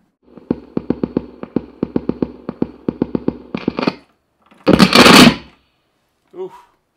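A DFAM analog drum synthesizer played through a Fender guitar amp fires a rapid, steady run of punchy percussive hits, then a loud burst of harsh distorted noise and a short fading squelch.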